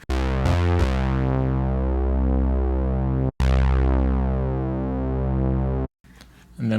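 A Serum 2 software synth plays a thick, sustained distorted tone that holds loud and steady, cuts out briefly twice, then gives way to a short noisy tail.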